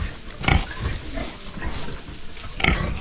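A pig on a backyard farm grunts and snuffles close by, with two louder bursts of grunting breaking through a steady low rumble of snorting.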